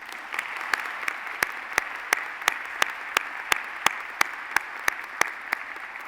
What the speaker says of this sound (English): give our new citizens a Flag City, USA round of applause.